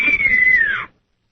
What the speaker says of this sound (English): I know how to whistle good.